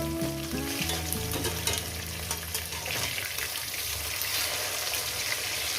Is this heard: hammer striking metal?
no